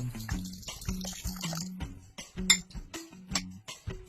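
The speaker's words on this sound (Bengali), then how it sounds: "এক কাপ সয়াবিন নিলাম গরম জল দিয়ে ভিজিয়ে নেব" Hot water poured over a cup of dry soybean chunks, giving intermittent splashing, trickling and light clinking bursts at close range with short pauses between.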